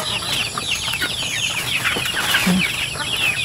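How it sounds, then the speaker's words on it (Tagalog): Ducklings being fed early in the morning, a dense chorus of high peeping and chirping from many young birds close by, continuous and fairly loud, with no talking. "nagpapakain siya ng kanyang mga ducklings"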